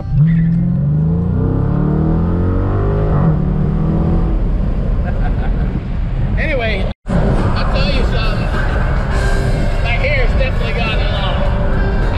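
A Dodge Challenger fitted with MFER-1 mufflers revs up loudly near the exhaust, a deep rumbling engine rising in pitch through a throttle blip, then a brief cut and renewed revving with a raspy roar.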